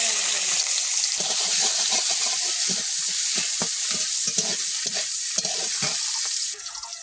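Oil sizzles and crackles steadily in a hot wok on a home stove, a loud continuous hiss with irregular pops and spatters.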